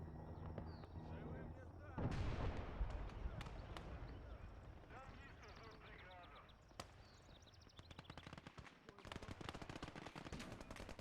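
Rapid bursts of machine gun fire crackle through a hardcore World War II battle in Gates of Hell, with a loud blast near the start and repeated gunfire continuing across the scene, mixed with other combat noise.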